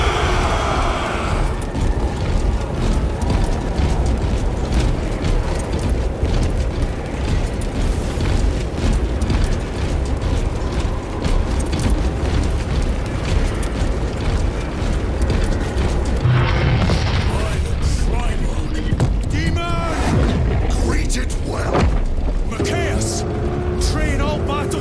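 Gunfire and explosions from Space Marines opening fire in a Warhammer 40,000: Space Marine 2 battle cutscene, a dense, loud barrage of booms and bursts rolling on for the whole stretch, with shouted voices over it.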